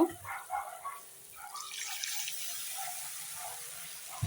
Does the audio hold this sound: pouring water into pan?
yes